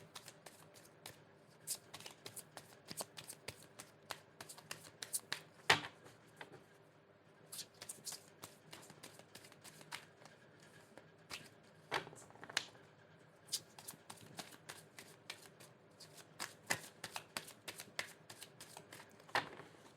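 Tarot cards being shuffled by hand, a quiet, irregular run of crisp riffles and slaps that continues for the whole stretch with brief pauses, close up and with no voice.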